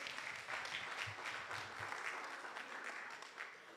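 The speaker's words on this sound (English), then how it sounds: "Let's give everyone that answered a round of applause." Audience applause at a Black History church program, steady dense clapping from a crowd for a few seconds, fairly even and tapering slightly at the end.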